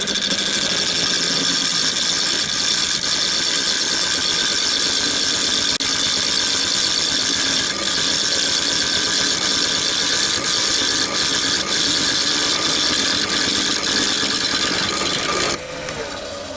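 A parting tool cutting into a spinning walnut bowl blank on a woodturning lathe, levelling the wood with a loud, steady, continuous scraping hiss over the motor hum, easing off briefly at the end, no talking.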